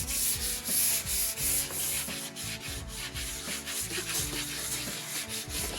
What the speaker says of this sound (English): we're using a block sander with 140 grit sandpaper